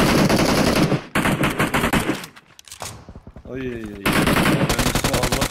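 Automatic gunfire sprays loudly in a shooter video game, long rattling bursts broken by a quieter gap in the middle where a voice briefly speaks.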